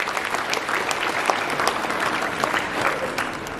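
Audience applause at a university graduation ceremony for IT Del graduates in Laguboti, a thick wash of clapping from a large crowd filling the hall, steady and fairly loud throughout.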